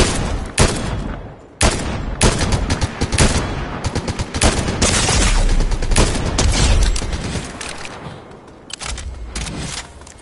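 Rapid gunfire in the video game Fortnite, with loud bursts and sustained automatic volleys that come close together, then thin out toward the end.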